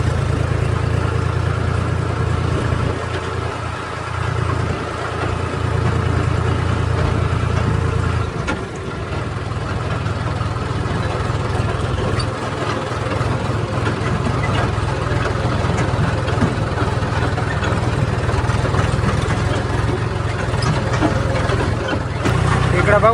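A tractor engine idles steadily and fairly loud throughout, a continuous low rumble with a brief dip midway, while a voice talks over it outdoors near roadwork.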